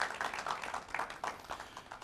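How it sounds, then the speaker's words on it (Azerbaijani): A television studio audience claps for a talk-show guest, a faint, fairly rhythmic patter of applause from a small crowd. "Alqışlar zəhmət olmasa."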